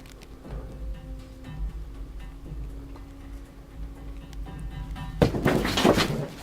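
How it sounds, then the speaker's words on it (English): Heavy thuds like fists pounding on a wall or floor come from another room, preceded by a quieter creak like a floorboard being pushed up, with the loudest burst of bangs arriving at the end. "he is startled by what sounds like a floorboard being pushed up, followed by several loud bangs from the other room"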